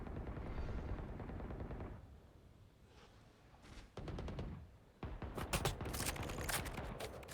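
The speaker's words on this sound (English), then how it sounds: "We're just shooting." Gunfire in the Valorant video game, rapid bursts of shots crackling loudly in clusters, first dense and sustained, then quieter, then renewed heavy volleys in the later seconds.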